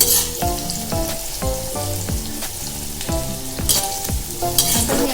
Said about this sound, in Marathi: आपण इथे कांद्यांना थोडं मीठ चोळून घेऊ म्हणजे ते लवकर तळले जातात